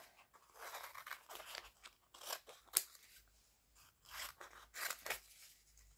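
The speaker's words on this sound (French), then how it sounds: "Et là, on coupe les petits sujets qu'on a fait." Scissors snipping through sheets of homemade paper stickers, a close series of crisp, irregular cuts in short bursts separated by brief pauses, fairly quiet.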